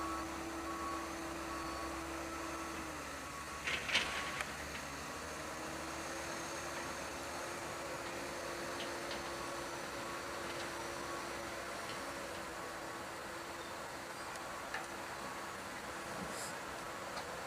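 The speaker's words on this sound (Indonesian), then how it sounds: "Lagi proses pengangkatan bangkai kayu ke atas dump truk." A dump truck idles while being loaded with wood debris at a waste haul and dumping site near the Palembang–Jambi toll exit, a distant, steady engine drone with one brief clunk early on.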